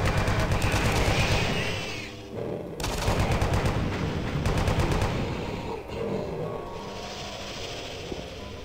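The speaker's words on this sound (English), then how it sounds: "So now I get my chain gun." Chaingun firing in a Doom map played in a source port, a loud continuous rattle of rapid shots in long bursts broken by a couple of short gaps, close and dense.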